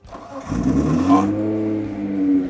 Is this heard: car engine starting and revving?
yes